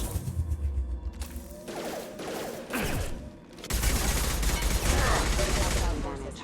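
Bursts of automatic gunfire in the Mass Effect 2 video game, rapid rattling shots that pause briefly and then return in a heavier, continuous barrage, loud and close, with some voices underneath.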